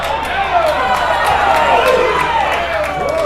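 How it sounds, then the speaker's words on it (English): Minor-league baseball crowd jeering the umpire at a Nashville vs Robinson game, a sustained murmur of many voices with scattered shouts, loud and continuous. "Scrapper crowd barking at the umpire a little bit."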